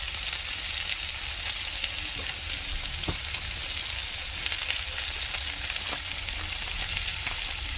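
Boiled potatoes and onions frying with salt and turmeric in a pan for an egg curry, giving a steady, even sizzle throughout with faint occasional stirring clicks and no talk.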